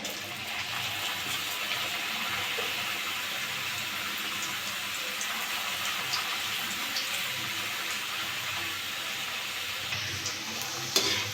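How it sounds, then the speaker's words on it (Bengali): Potato chips fry in hot white oil in a kadai on a gas flame, a continuous dense sizzle and bubbling hiss that holds evenly loud throughout, with one sharp click near the end. "কড়াতে আমি সাদা তেল দিয়ে দিয়েছি তেলটা গরম হয়ে গেছে আমি এটা দিয়ে দেবো"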